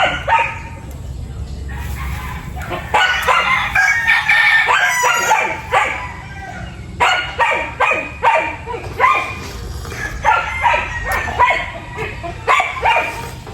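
Several roosters crow one after another, close by, mixed with dogs barking and hens clucking in a busy, noisy farmyard.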